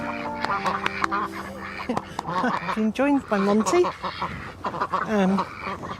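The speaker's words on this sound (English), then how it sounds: "the ducks are very close by, as you can hear" Ducks quack repeatedly and loudly close by in a garden, their calls overlapping while someone talks over them.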